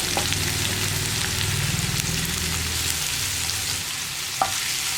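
Mushrooms fry in a pan with sliced onion, curry leaves, ginger and green chili, giving a steady, dense sizzle. Occasional soft scrapes of stirring and a faint tap rise over the constant crackle.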